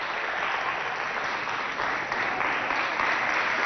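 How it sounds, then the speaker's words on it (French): Steady applause from an audience at a televised quiz match between two schools, even and sustained with no speech. "Sous vos applaudissements."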